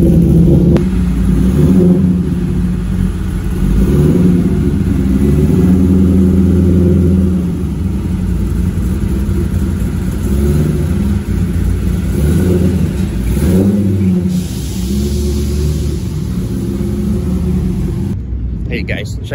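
A cammed Mercedes CLK500 V8 rumbles and revs under load on a test drive, its deep engine note rising and falling, while people talk over it inside the car.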